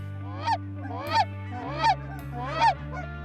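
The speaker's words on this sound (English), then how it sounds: "We're gonna get some geese now." Canada geese honk close by, four loud calls in a steady rhythm over a low background hum, on the Colorado Front Range.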